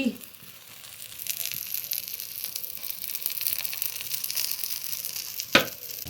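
Steady sizzle of an aloo paratha frying in ghee on a gas stove fed from a cylinder, a soft continuous crackle close by with a brief sharp scrape near the end.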